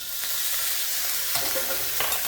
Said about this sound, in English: To this, I'm going to be adding 1 tablespoon of minced garlic